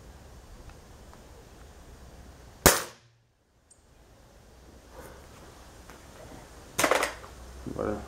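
A single sharp shot from a CBC Montenegro Standart F18 4.5 mm air gun cracks out, leaving a moment of near silence before faint handling sounds and a softer thump follow.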